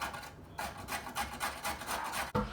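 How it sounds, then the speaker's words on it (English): A carrot is grated on the largest holes of a grater, making loud, close rasping strokes in a quick steady rhythm, with one sharp knock near the end. "I'm just going to grate the carrot on the largest holes on the grater."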